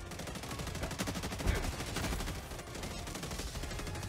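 Continuous gunfire in the Helldivers 2 shooter, a dense, rapid automatic rattle with overlapping bursts at moderate distance and one heavier thump partway through.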